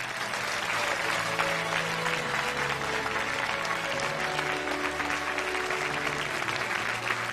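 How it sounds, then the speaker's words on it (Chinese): Sustained audience applause fills a studio stage event as guests from HBIS's Serbian steel company are welcomed, dense steady clapping of a large crowd lasting several seconds with faint background music. "首席商务官斯维塔以及河钢赛钢初加工部门的总经理瓦拉丹来到我们的舞台，和我们分享他们的心得，掌声有请。"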